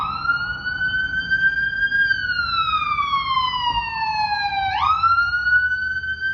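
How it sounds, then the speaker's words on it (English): A wailing ambulance siren sweeps slowly up and down in pitch, clear and fairly close, with no other sounds over it. "That's the ambulance."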